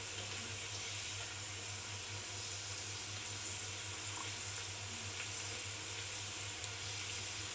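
Wheat flour and jaggery kapanya fry in hot oil, giving a soft, steady sizzle with faint bubbling crackles, continuous and fairly quiet, close by with no talking.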